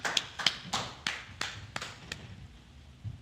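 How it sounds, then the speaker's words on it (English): Scattered claps from a small class audience honoring an officer, a handful of sharp separate hits spaced unevenly and fading out toward the end, with no talk over them. "Clap it up one more time for that officer."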